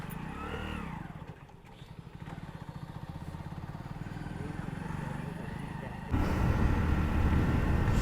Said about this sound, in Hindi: और स्प्लेंडर इतनी अच्छी लगती है ना चलाने में, मज़ा आ जाता है